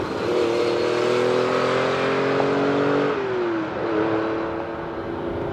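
A carburetted 1970s Ferrari 512BB flat-twelve engine revs up, holds a loud, rising mechanical howl close by, then drops back and settles into a steady higher idle.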